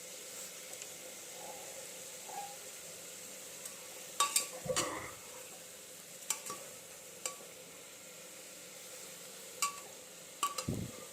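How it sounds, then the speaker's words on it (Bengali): Chicken and vegetables being stirred in a pan for chicken soup, a faint low sizzle under a few scattered scrapes and knocks of a spoon, close but quiet, with no voices. "দিয়ে এবার সবজি সমেত এই মাংসটা আমি ভালো করে নাড়াচাড়া করে নেব"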